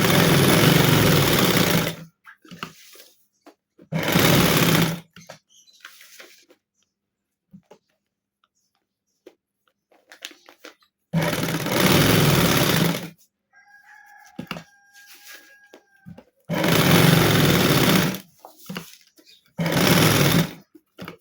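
Sewing machine stitching white thread along the edges of an organza neck design, running in several loud bursts of a few seconds each, separated by quiet pauses.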